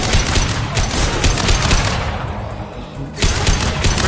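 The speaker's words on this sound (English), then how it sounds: "Firing an impact shot!" Impact shot fired in the Mass Effect 2 game: a loud, dense volley of gunfire, with rapid crackling bursts, a brief lull, then renewed firing close by.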